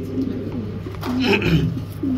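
Pet foreign cage birds, lovebirds, Java sparrows and sun conures, make soft cooing calls up close over a short stretch, with faint background voices.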